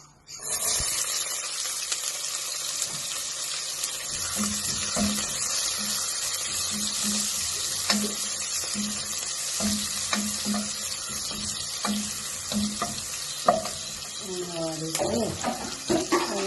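Sliced onions go into hot oil for fried chicken biryani masala, giving a continuous loud hiss of frying with occasional utensil knocks and scrapes throughout.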